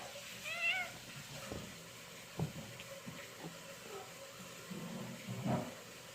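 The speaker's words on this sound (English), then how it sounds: "There's some kitty wrestling going on." A kitten and an adult cat wrestle and play indoors, with scattered soft thumps, scuffles and short meows spread across the stretch, fairly quiet and close, without talking.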